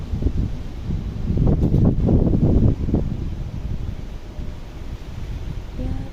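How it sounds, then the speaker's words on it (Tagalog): Strong wind in Hong Kong rushes and buffets the microphone, building into a louder gust midway before settling into a steady blustery roar. "Napakalakas ng hangin today."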